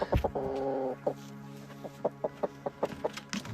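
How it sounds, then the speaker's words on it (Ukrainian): A hen brought into a yard during the Kakhovka flood rescue clucks close by: one drawn-out call, then a string of short, uneven clucks. "Це куриця."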